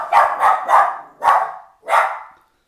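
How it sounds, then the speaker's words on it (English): A pet dog barks loudly and close by indoors, five sharp barks in quick succession, the first three rapid and the last two spaced apart, with no talking over them. "That's my bloody dog."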